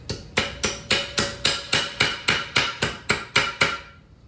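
A hammer pounds a sheet metal car body seam resting on a jack stand, about thirteen evenly spaced, sharp ringing blows struck close and loud before falling silent.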